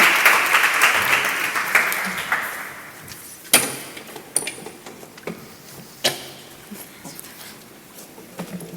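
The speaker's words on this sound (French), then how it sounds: "Encore des applaudissements pour les courageux." Audience at a children's emergency-medicine event claps strongly at first, then the clapping thins out and fades, leaving scattered isolated claps and knocks in a quieter room.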